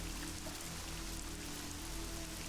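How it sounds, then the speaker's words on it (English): Steady rain falls in the video game Legend of the Crystal Skull, a continuous, even hiss of drops that carries on unbroken with no voices over it. "It's been raining so long."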